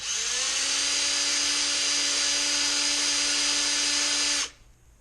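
A drill bores and cleans up a hole in the metal of a Corona 3354 weeder, giving one steady high whine that holds for about four seconds at close range before cutting off abruptly.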